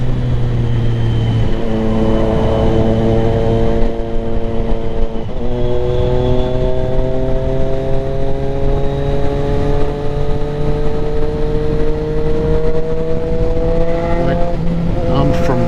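A Triumph Street Triple RS motorcycle ridden back from Bear Mountain, its engine droning loudly and steadily with rising pitch through the gears and brief shifts between them, under heavy wind rush, with someone talking over it.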